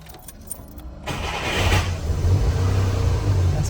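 Mercedes 220S engine hot-starting: a brief key jingle, then the engine catches and settles into a steady close idle rumble.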